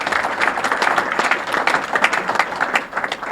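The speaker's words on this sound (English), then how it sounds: "Let's give him a round of applause as well." A meeting audience applauds, producing a short, close burst of dense clapping from many hands that holds steady for a few seconds.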